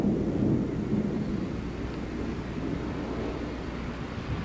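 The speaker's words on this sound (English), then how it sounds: "I'll wait for the next thunder and then I'll turn it off." A low, steady rumble of distant thunder rolls through a storm, even and fairly faint throughout, with no voices.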